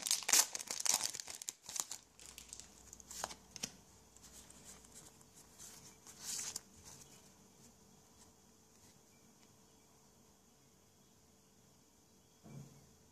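Pokémon XY booster pack torn open, loud crinkling and tearing of the foil wrapper in quick bursts at the start, then quieter rustles and card shuffles fading to near silence before a final soft crinkle.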